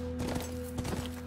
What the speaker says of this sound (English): Oh my god, this horse can go faster.